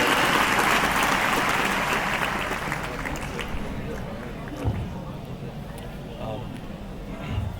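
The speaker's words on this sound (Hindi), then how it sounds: "सर का जोरदार तालियों के साथ स्वागत और अभिनंदन।" Loud, dense clapping from a large crowd at a farewell ceremony, welcoming a guest to the stage, slowly fading over several seconds, with some murmuring voices underneath as it dies down.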